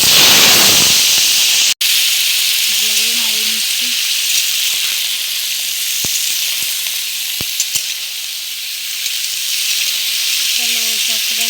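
Potatoes, pointed gourd and soybean chunks hit hot oil in a wok with a sharp burst, then a loud, steady sizzle and hiss continues, with brief muffled voices underneath.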